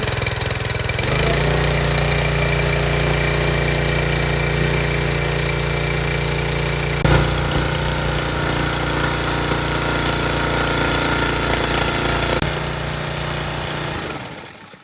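Small pull-start engine running steadily after a first-pull start, a loud continuous idle with a knocking, hammering rhythm and a brief surge midway before it cuts off near the end.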